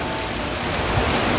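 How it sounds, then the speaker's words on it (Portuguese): Heavy rain falls steadily on the streets of Copacabana in Rio, a dense, continuous hiss and patter of drops on pavement with no pauses. "não esperava que ia ser tanta chuva"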